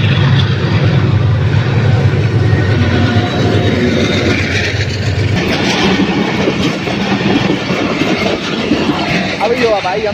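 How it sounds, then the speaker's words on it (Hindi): A train passes close by with a loud, continuous rumble and rattle of wagons, a heavy low drone at first giving way to brighter clatter, while voices are heard beneath it. "तो ट्रेन जो है सामने से आ रही है ये"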